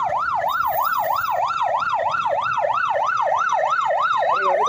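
An ambulance siren in Kathmandu night traffic wails in a fast, regular up-and-down sweep, loud and close, holding steady over low road noise.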